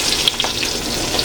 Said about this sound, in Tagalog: Kaya binabali-baliktad ko siya para maprito yung talong.